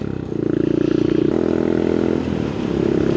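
Motorcycle pulling away in second gear on a single-track road past reservoirs in South Scotland, a loud close engine note climbing through a short burst of acceleration with some clatter.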